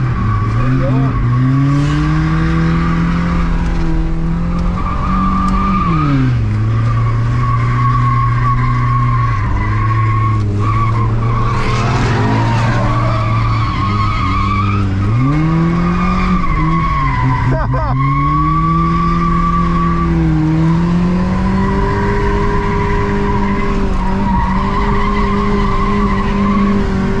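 A 100hp car with an automatic transmission drifts, its tires skidding and squealing over a loud engine whose pitch rises and falls with each slide, close and sustained, with occasional voices underneath.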